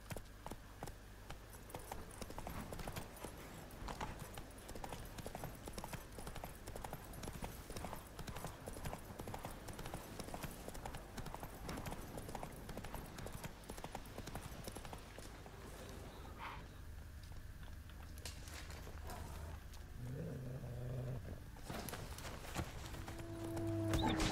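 Horse hooves in The Witcher 3: Wild Hunt, a steady rapid clip-clop of galloping on the ground, loud and continuous under game ambience, slowing near the end with a faint snort or whinny.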